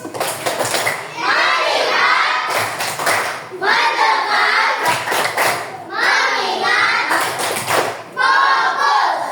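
A class of children performs a rhythmic focus clap in a classroom, bursts of clapping alternating with chanted group voices, loud and close, in repeated cycles.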